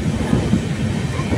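Rail rumble from a train arriving at Nagothane railway station in the Konkan region, a steady, fairly loud rolling drone with no clear breaks.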